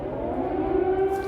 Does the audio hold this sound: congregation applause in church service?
no